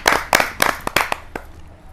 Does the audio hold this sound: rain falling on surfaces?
no